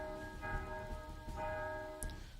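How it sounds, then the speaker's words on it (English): Cathedral bells ring in the Legend of Sherwood video game, a sustained, steady tonal peal with overlapping strikes and no one talking. "Ranulph hears the cathedral bells ringing."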